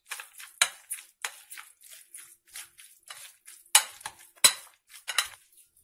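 Potatoes softened with milk are mashed in a bowl, giving a steady run of scraping, clinking utensil strokes against the dish, close and fairly quiet, with no talking.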